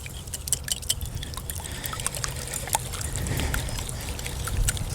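Milk poured into a bowl for a dessert mixture, a soft, close liquid splash and trickle that swells slightly toward the end, with faint clinks around it.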